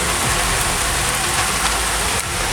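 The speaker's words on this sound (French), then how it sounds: "Ah si, il pleut pas mal quand même." Heavy rain pours steadily during a thunderstorm, a dense close hiss of drops hitting surfaces with no voices, holding constant throughout.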